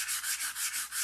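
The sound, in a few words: sanding a dope-coated surface before painting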